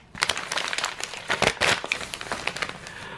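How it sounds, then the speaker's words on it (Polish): Wrapping paper crinkles and rustles as a gift holding Xiaomi earbuds is unwrapped, with close, irregular crackling bursts over about three seconds. "Tutaj sobie ten papier przesuniemy."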